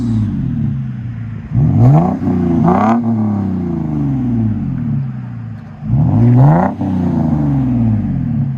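A 2003 Lexus GS 300 with the 2JZ engine and Magnaflow Magnapack exhaust revs twice, each a deep rising roar that falls back to a low, steady idle rumble heard from outside.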